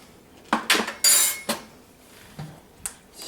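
A spoon scrapes and clinks against a metal pot while pineapple jerk sauce is stirred, several sharp separate knocks and rattles with quiet pauses between them.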